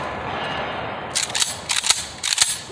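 Fég AMD 65 AK rifle in 7.62x39 firing a quick string of sharp shots in two close bursts, loud and near, after a quiet start with no talk.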